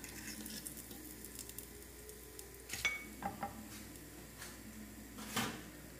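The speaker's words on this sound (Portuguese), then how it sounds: "Agora eu só vou fritar, gente." Breaded sardine fritters made from canned sardines frying in hot oil, giving a steady soft sizzle broken by a few louder clattering knocks from handling the pan.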